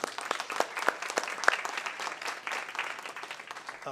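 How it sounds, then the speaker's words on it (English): Audience applause at a public school board of education meeting, a steady wash of many hands clapping for school staff and students, moderately loud and continuous without talk. "So I just want to really take time to clap for them."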